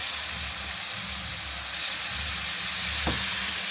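Oil sizzles steadily and loudly while a mixture fries for homemade fenugreek (methi) ladoos in a village kitchen. A low rumble runs underneath, and a short scrape comes near the end.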